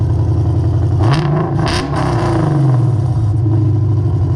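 Lexus RC F with a Varis hood and RES exhaust idling loudly nearby, a deep steady burbling rumble that swells in a couple of brief blips before settling back to a loud even idle.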